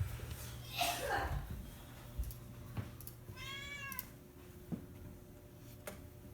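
A pet cat meows once in a clear, drawn-out wavering call, with a few soft clicks and a faint low hum in a quiet indoor room.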